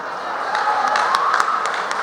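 Audience applause at the 2018 Lucknow Mahotsav mushaira in Uttar Pradesh, a steady wash of many hands clapping from a large crowd, with scattered sharper claps standing out, no voices.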